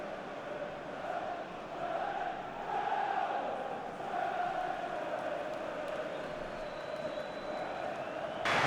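Stadium crowd in an EA FC football video game roaring and cheering after a goal, a steady dense wash of noise holding loud through the whole stretch with no talk over it.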